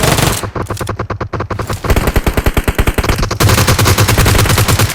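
Rapid automatic gunfire in PUBG Mobile, loud close bursts of evenly spaced shots, a sparse volley then denser sustained strings of rounds with no pause between the final bursts.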